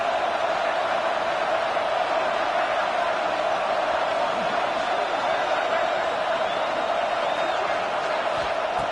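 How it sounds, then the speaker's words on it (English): A dense, roaring football stadium crowd, loud and sustained throughout with a steady broadband wash of cheering and no clear breaks. "listen to this crowd noise. This stadium is vibrating."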